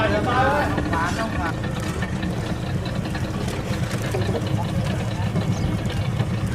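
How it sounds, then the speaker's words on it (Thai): A boat engine drones steadily on a river, a continuous loud rumble as the vessel approaches, with people talking over it. "เรือมานะครับ"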